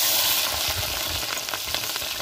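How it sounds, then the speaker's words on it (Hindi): Chopped onion and green chili hit hot tempering oil for a gatte curry, giving a loud, steady frying sizzle with crackling bursts throughout, close and without voices. "प्याज और मिर्ची ये सबसे पहले तड़के में डाल रही हूँ।"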